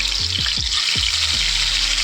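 Loud, continuous sizzling of snakehead fish frying in hot oil, a steady crackling hiss close up, with a few low thumps underneath.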